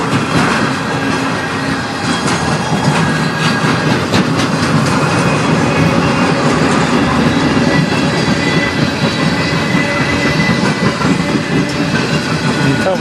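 A CN manifest freight train hauled by two locomotives rolls past close and loud on the Strathroy Subdivision, with a continuous rumble and clattering wheels mixed with gusting wind and no talking.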